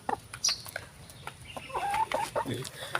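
A Rhode Island Red hen clucks and squawks in a string of sharp, uneven calls while laying an egg, heard close and loud in a farmyard.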